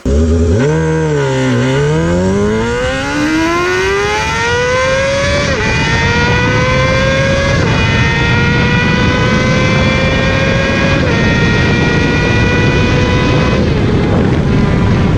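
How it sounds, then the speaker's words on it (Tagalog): A Honda CBR250RR MC22 inline-four motorcycle engine screams loudly and close, its pitch sweeping up through repeated high-revving pulls with brief dips between, running continuously with no talk. "Simulan natin sa pinaka-classic screaming Inline 4 engine, the Honda CBR MC22."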